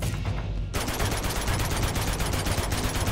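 Rapid automatic gunfire from Uncharted 2: Among Thieves on PS4, a dense unbroken stream of loud shots rattling on for about three seconds after a brief quieter lead-in.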